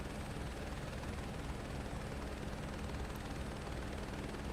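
A helicopter in Microsoft Flight Simulator drones steadily with a low rotor thrum and broadband engine roar, constant and unbroken throughout with no talk.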